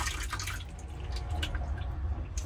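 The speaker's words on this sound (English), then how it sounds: "You've essentially got little drains in both corners and it just drains straight down into the waste tank." Water drains from a Vantage Sol motorhome sink through small corner drains into the waste tank, a close, steady gurgling trickle with scattered drips.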